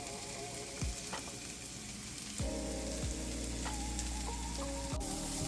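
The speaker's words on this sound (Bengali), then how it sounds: "আমি সব মশলা একসাথে ভুনে নিলাম এক মিনিট মতো" Cumin paste, coriander paste and turmeric fry together in a pan with a soft, continuous sizzle. A few utensil scrapes and taps break in, and a low hum sits underneath.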